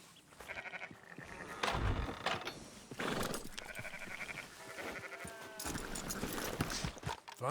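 Several sheep in Red Dead Redemption 2 bleat repeatedly in short wavering calls, overlapping at moderate distance, with some faint mechanical clatter underneath.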